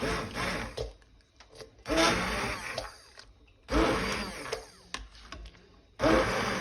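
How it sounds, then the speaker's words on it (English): An immersion blender purees slow cooker apple butter in four loud, close whirring bursts separated by short pauses. "I'm going to take an immersion blender and I'm going to blend up this apple butter"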